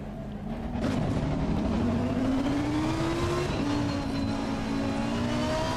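Race car engine in a sim racing video game, a steady close drone whose pitch climbs smoothly and then drops back at gear changes, with no talking.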